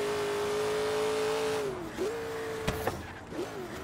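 A twin-turbo AMC AMX in Forza Horizon 3 holds a high steady rev, then the pitch drops and climbs as it shifts, with one sharp backfire crack and a brief tire chirp.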